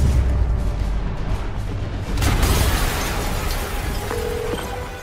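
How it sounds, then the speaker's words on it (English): A loud explosion rumbles through a Spider-Man Remastered game scene, a deep booming burst near the two-second mark with sustained low roar and debris-like crackle after, over a continuous rumbling background. "an explosion just... I saw it."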